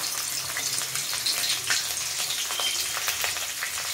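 Whole garlic cloves frying in a pan give off a steady, moderately loud sizzle with crackling spits, close by and without talk.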